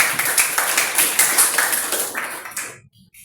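An audience gives a short round of clapping, a dense patter of hand claps that thins out and stops abruptly, leaving near silence at the end.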